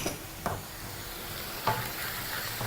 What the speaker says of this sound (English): we're just going to continue mixing that and cooking it down